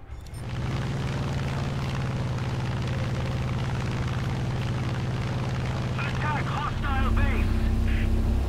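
Propeller drone of a Bearcat fighter plane in War Thunder, a steady loud engine hum running throughout, with a voice talking over it and brief crackling bursts near the end.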